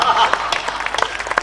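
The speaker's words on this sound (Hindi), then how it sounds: "मंच भी ताली बजाए" Audience applause at a Hindi poetry recital rattles steadily throughout, a dense patter of many hands clapping, with a voice speaking over it.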